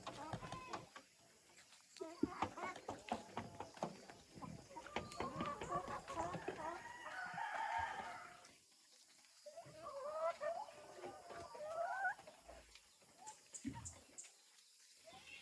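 Rhode Island chickens on a rural farm cluck and call in bursts, some close and some farther off, with voices talking in the background.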